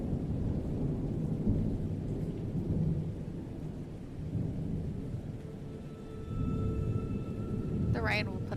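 Steady rain with rolling, low rumbles of thunder in the fantasy game Dragon Age Origins, a continuous loud downpour throughout, with a short higher-pitched sound near the end.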